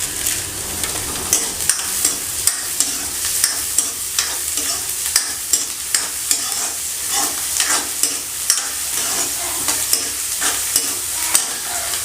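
Onions and cumin fry in a pan while being stirred, a steady loud sizzle broken by regular scraping strokes of the spoon about every half second, with no talking.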